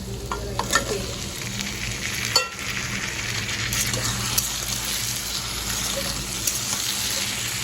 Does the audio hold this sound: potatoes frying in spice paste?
yes